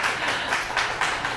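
Church congregation clapping to welcome two first-time visitors at a Sunday service, a brief burst of scattered hands, moderately loud and continuous.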